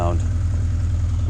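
A 1982 Honda CB750K motorcycle, warmed up and holding about 1100 rpm at idle, gives a steady, close, low-pitched engine rumble with an even pulse throughout.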